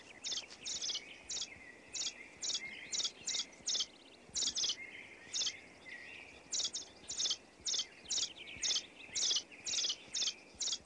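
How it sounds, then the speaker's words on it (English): Wood thrush with fledglings in a deciduous Kentucky forest: a repeated series of sharp, high chirps in short bursts at a steady pace, clear and fairly near, over soft insect-like background hum. "Here in Kentucky, a wood thrush attends to her young."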